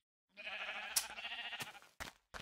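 A Minecraft sheep bleats in a single wavering, nasal call. It is clear and close, followed by a couple of short clicks of game sounds.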